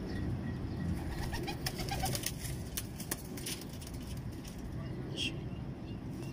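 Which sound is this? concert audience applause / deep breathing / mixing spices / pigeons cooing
pigeons cooing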